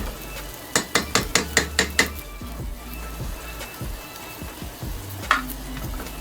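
A utensil clanks in quick rhythmic strikes against a pot while noodles are stirred during casserole cooking, followed by softer scattered knocks and a low sizzle in the background.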